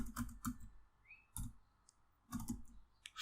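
Bursts of clicking keystrokes on a computer keyboard while code is typed for an Excel sheet-activation macro, arriving in short clustered runs with pauses between them, close and fairly quiet.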